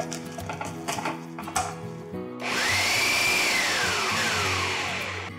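A mixer grinder with a ladoo mixture and dry fruits clatters briefly, then whirs up into a loud rising whine that holds for a few seconds before starting to wind down.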